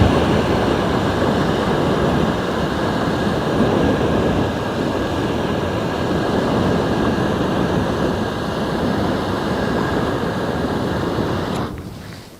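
An X15 personal flamethrower throws a long, steady roaring rush of burning gasoline onto a fence, loud and continuous with no talk, cutting off abruptly at the end.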